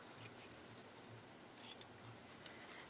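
Scissors cut through material for a purse organizer, giving a few quiet, close snips over a soft, steady room hush.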